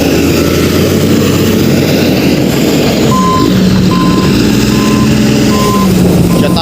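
A truck's reversing alarm beeps in a steady, evenly spaced series over loud, constant engine rumble on a sandy roadside among other trucks.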